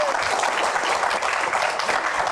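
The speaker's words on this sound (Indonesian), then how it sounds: "Oke, tepuk tangan." Audience applause at a live Q&A event, a dense, steady wash of many hands clapping at close range throughout, with no clear break.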